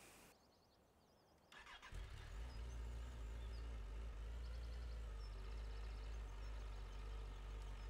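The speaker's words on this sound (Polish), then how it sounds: "Fajnie pracuje ten motocykl." In Farming Simulator 17, a BMW motorcycle engine cranks and catches after a moment of quiet, then settles into a steady, low running rumble that carries on to the end, with no talking.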